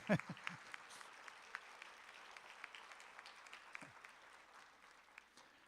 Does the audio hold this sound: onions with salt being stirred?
no